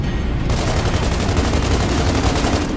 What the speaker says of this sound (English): Apparently gunfire doesn't affect them at all.